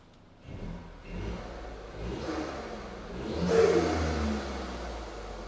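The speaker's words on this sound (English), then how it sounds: "We'll give it a few little revs now." A Ford Fiesta ST Mk8 Performance Edition with a Revo open cone intake and Scorpion exhaust revs up from idle in a series of short blips, each rising higher, the last and loudest near the end before settling back.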